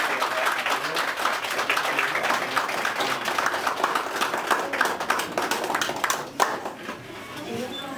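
Guests at a quinceañera celebration in Guadalcázar, San Luis Potosí give sustained applause from a crowd. Dense clapping runs throughout and tapers to scattered claps near the end.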